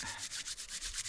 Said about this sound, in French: tu froisses les aiguilles dans ta main